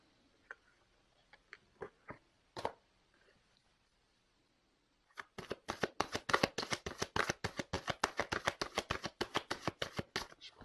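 Tarot cards are shuffled by hand. A few scattered soft taps come first, then a quiet pause, then a fast, even run of crisp riffling clicks that goes on to the end.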